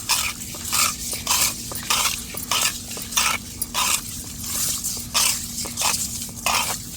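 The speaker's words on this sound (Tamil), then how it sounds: "உப்புக்கல் போட்டிருக்கோம் நல்லா உரைச்சி எடுத்துக்கிடுவோம்" Whole fish being rubbed with coarse rock salt by hand for a Tamil fish curry made from four kinds of fish, giving repeated gritty scraping strokes in a steady rhythm, close up with no speech.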